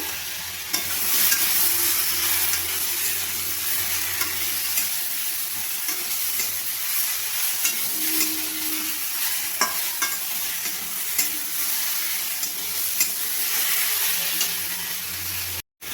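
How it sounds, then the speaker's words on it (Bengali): Cut mango pieces with salt sizzle steadily in a wok as a pickle base, with a spatula stirring and scraping throughout and no talk. "নুন দিয়ে আমটাকে ভালোভাবে ভেজে নেব।"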